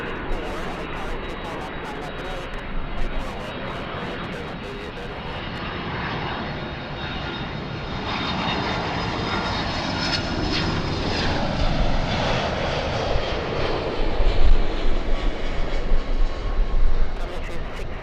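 An airliner takes off from runway 24 left at Los Angeles, its jet engines building from a broad roar into a loud rising rush that swells toward the end.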